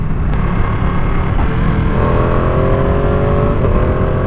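Ducati Panigale V2 motorcycle engine pulling from low revs in sixth gear, a steady loud rumbling drone with rising tonal lines as the bike accelerates, heard close with no talk.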